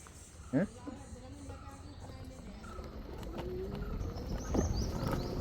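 Birds call faintly in the distance, with cooing and scattered chirps over a low rumble of a quiet moving vehicle.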